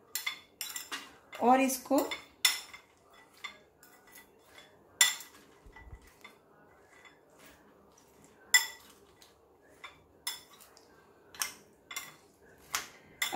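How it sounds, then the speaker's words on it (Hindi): A spoon mixes bitter gourd pickle in a bowl, with a series of sharp irregular clinks and scrapes of metal against the dish and quiet gaps between. Brief speech is heard once. "इसको हम इस तरह से मिक्स कर लेंगे अच्छे से"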